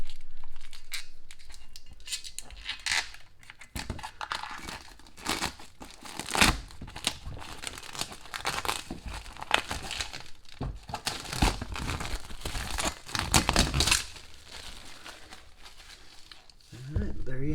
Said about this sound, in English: we can take this protective plastic off